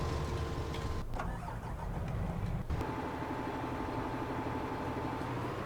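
Tractor engine in Farming Simulator cranking and catching, then settling into a steady mid-pitched idle rumble with a faint whine, alone and no talk.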